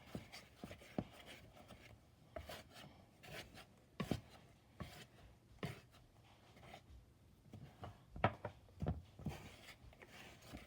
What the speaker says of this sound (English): So you combine all of that, whisk together